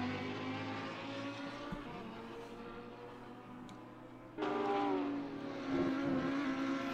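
Race car engines at Sebring in a sim racing GT series, Porsches among them, droning in a sustained harmonic whine that shifts pitch as cars pass, with a louder engine surging in partway through.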